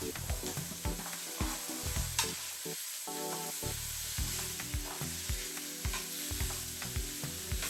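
Vegetables and mushrooms cook in a pan with a close, constant sizzle, broken by regular knocks and scrapes of a spatula stirring, and no talking.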